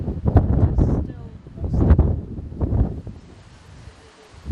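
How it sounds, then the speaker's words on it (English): Strong gusty wind on a hilltop in Scotland buffets the microphone in heavy low rumbling bursts, rising and falling over a few seconds, loud and close. "It was extremely windy at the top."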